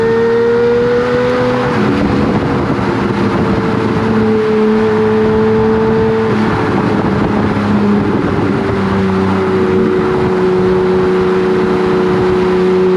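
A Lamborghini Murcielago with a six-speed gated manual drives along, its engine droning loudly and steadily close by, pitch holding and shifting between gears, with no voices.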